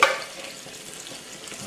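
Cauliflower hits a hot pan of oil and spices in a vegetable curry, setting off a loud, steady sizzle and crackle that carries on evenly without any talking.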